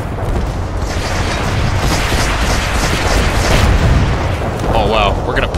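Grenade explosions in the multiplayer shooter Renegade X, a loud continuous rumble of booming blasts and battle noise, with a voice talking near the end.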